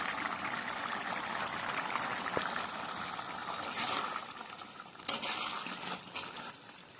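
Water is poured into a pan of cooking paneer, making a trickling, bubbling simmer with soft hissing and occasional metallic clinks of a utensil against the pan.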